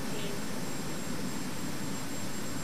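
Steady, loud engine drone of an aircraft in the X-Plane 11 flight simulator, a continuous broadband roar with a faint high whine, unchanging and alone throughout.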